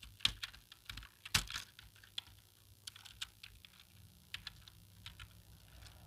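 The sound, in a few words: typing on a computer keyboard during a typing speed test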